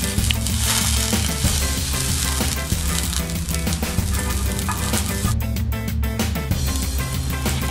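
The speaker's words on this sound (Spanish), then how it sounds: "en un sartén van a agregar mantequilla y con ayuda de una palita la" Butter melts over low heat in a frying pan on the stove, hissing and crackling loudly and steadily with occasional scraping of a small spatula, no voices.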